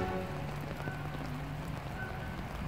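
Steady rain falls on trees around a large hornbeam in a bonsai and landscape tree nursery, making a constant close hiss with scattered drips and no talking.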